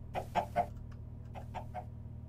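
A Minecraft chicken clucks in two quick bursts of three short clucks each, fairly close over a low steady hum, with no talking.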